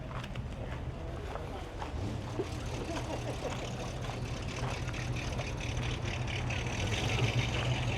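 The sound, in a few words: Pontiac Trans Am driving away from a car meet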